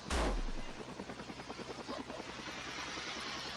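A Blizzard kit model helicopter runs with its throttle set too high, a loud close rotor chop beating in fast rhythmic pulses after a sharp burst at the start, continuing steadily without voices.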